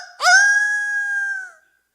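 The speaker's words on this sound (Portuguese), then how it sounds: "Aí o galo cantou." A single rooster crow plays as a sound effect during a church sermon. It rings out loud and clear for about a second and a half, then stops into silence, with no talk over it.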